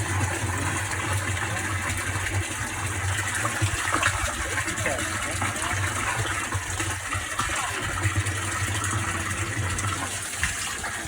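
Water gushes loudly and continuously from a borehole being drilled into an aquifer, over the steady hum of a running compressor, with voices barely audible beneath the noise.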